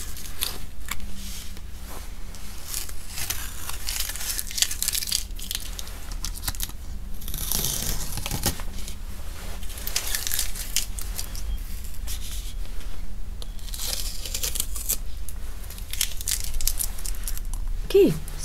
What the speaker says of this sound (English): And now it's time to take off the masking tape.